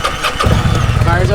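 A 2002 Kawasaki Vulcan Drifter motorcycle engine, with 10,448 miles on it, cranks and catches, jumping into a loud, rough idle close by after a brief starter whir.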